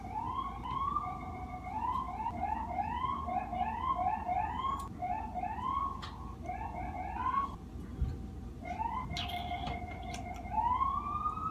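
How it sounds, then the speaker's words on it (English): Several sirens wail and warble through a busy New York City street on 9th Avenue, overlapping rising and falling tones over steady traffic rumble, fairly close and loud. "we just got lots of sirens here in New York City."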